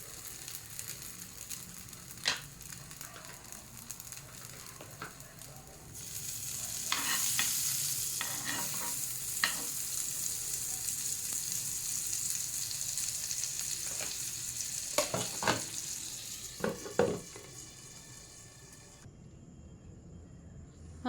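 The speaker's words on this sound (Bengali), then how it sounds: "এইভাবে বাকিগুলো আমি ভেজে নেব।" Paneer kulcha fries in a pan with a soft, continuous sizzle, broken by occasional scraping and clattering from a spatula against the pan.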